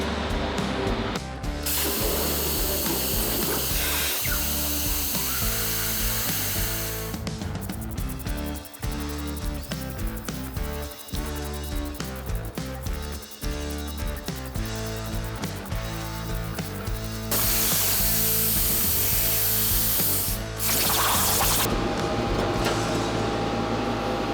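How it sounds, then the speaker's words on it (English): A CNC plasma torch cutting a steel sign runs as a loud, continuous hissing roar with harsh broadband noise and a steady machine hum, holding for about twenty seconds with brief dips and a brighter surge near the end. "my plasma CNC. And basically I already have it programmed. We're gonna hit play and get cutting."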